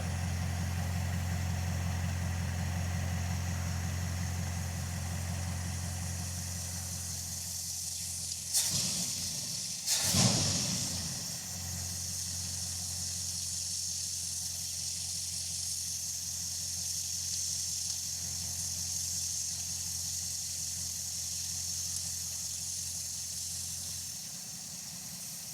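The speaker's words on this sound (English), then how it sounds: "Now let me just set the idle speed." An engine idles steadily while its idle speed is adjusted, a low, even hum with a constant hiss. Two brief bumps in the sound come about midway, and otherwise it holds level throughout.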